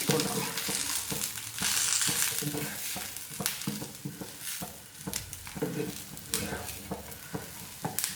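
Chicken pieces for tawa chicken fry, with curry leaves added, sizzle steadily on a hot tawa as a spatula stirs and scrapes in repeated close, rhythmic strokes.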